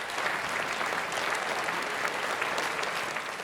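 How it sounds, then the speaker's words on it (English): An audience at a moderated round-table medical event applauds steadily and fairly close, a dense even clapping that holds throughout without talk. "They should be given a round of applause as well."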